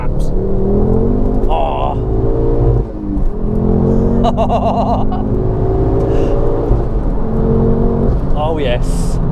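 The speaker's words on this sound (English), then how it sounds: "So every time you come off the exhaust, you get this sort of ferocious pop" A Ford Focus RS accelerates hard in second gear with a loud, close engine roar and sharp exhaust pops on and off the throttle, and people speak and exclaim inside the car.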